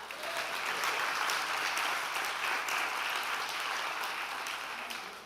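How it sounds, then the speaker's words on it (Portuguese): A church congregation claps in praise to the Lord, a steady, even wash of many hands applauding throughout, moderately distant and unaccompanied by speech. "Quem pode fazer barulho de aplauso ao Senhor?"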